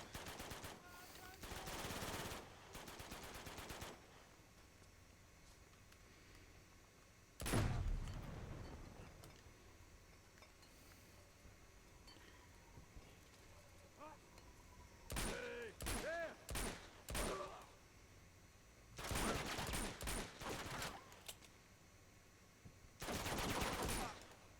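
Gunfire from the PS5 version of Uncharted 2: Among Thieves, coming as several separate loud bursts of rapid shots with quieter gaps between them.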